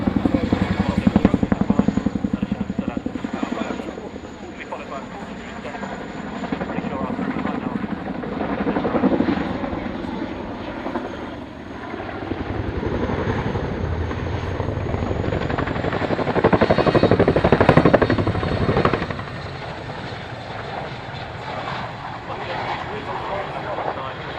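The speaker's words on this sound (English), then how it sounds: "The aircraft today is Chinook Mark II from our Airpodium" A Chinook Mark II twin-rotor helicopter performs at an air show, its heavy engine drone and rotor thrum swelling and fading steadily, with a voice speaking over it.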